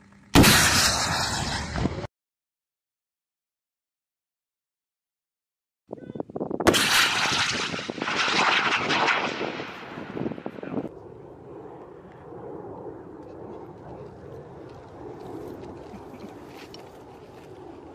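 Military rocket launches during the Balikatan 23 live-fire exercise: a loud, close blast, a sudden gap of silence, then a second heavy roaring burst that fades into a long, lower rumble.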